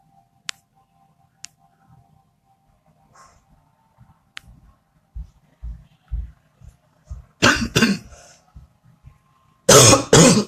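A person coughs repeatedly and clears their throat, starting with small clicks and faint throat sounds, then building to several short coughs and two loud, harsh coughing bursts up close.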